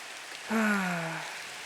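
Steady rain hisses down in the Minecraft video game, a continuous even patter with a brief falling tonal sound rising over it midway.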